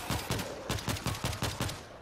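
An automatic turret in the zombie shooter World War Z firing a steady, rapid string of loud gunshots, about ten evenly spaced bursts with nothing else heard.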